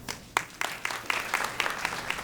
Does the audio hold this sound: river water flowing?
no